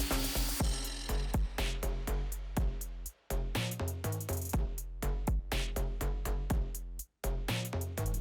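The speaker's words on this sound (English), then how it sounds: "After I was content with the fitment, I can now begin to torque everything down." A hand ratchet clicks in rapid, steady bursts while tightening exhaust bolts on a Subaru WRX STI during an AWE Touring exhaust install, with a couple of brief pauses between runs of close, loud clicking.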